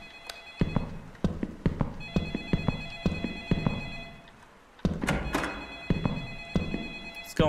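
A telephone rings in a horror-themed video game, with repeated electronic trills punctuated by sharp thunks and clicks, loud and near, and no one speaking.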